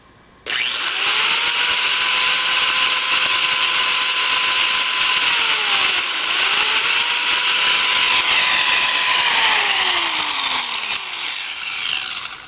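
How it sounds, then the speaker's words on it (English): An angle grinder powered through a DC-to-AC inverter spins up abruptly and holds a loud, steady motor whine, with its pitch dipping and recovering a couple of times before it winds down at the end. "But I want to see if I can get the angle grinder to fire."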